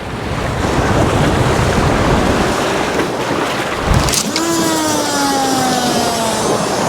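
Strong wind roars across the microphone on a boat out reef fishing, a loud continuous rush with water sounds beneath, and a rising mechanical whine appearing near the end.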